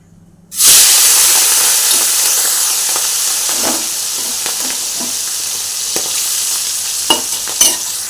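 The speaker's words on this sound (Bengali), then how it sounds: "তেল দিয়ে দিয়েছি গরম হয়ে গেছে এবার চিংড়ি মাছগুলো ভেজে নেবো" Prawns are dropped into hot oil, setting off a sudden loud sizzle that stays steady and hissing and fades slightly over time. Scattered stirring clinks and taps sound toward the end, with no one speaking.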